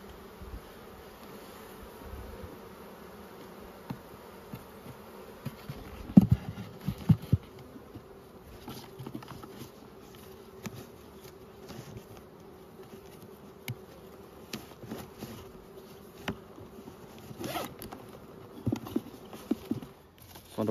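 Honey bees in a three-frame nucleus hive hum in a steady, close drone, with occasional light knocks and rustles from handling the frames.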